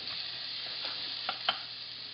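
Onion frying in a pan for chicken curry, a steady close hiss of sizzling oil with a couple of faint stirring knocks and no voices.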